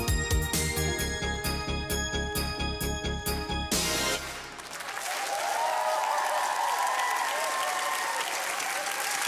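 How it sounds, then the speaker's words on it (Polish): Studio audience applauding in a televised celebrity impersonation show, preceded by a bright musical finale with rhythmic hits for about four seconds, then sustained, loud crowd clapping filling the rest. "Duże brawa!"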